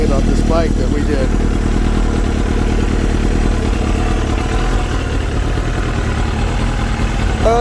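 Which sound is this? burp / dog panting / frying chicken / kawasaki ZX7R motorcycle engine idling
kawasaki ZX7R motorcycle engine idling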